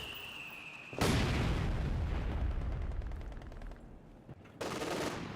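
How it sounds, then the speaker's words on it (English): A grenade blast in the World War II strategy game Company of Heroes 2 breaks out as a sudden loud boom with a long rumbling tail fading over three seconds, followed by another burst of fire, no talk. "Airborne squads do throw a grenade there."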